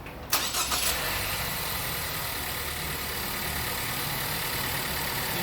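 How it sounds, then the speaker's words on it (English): A car engine that is already hot cranks briefly and catches, then settles into a steady, close idle that continues to the end. "Go ahead and start the vehicle, Jay."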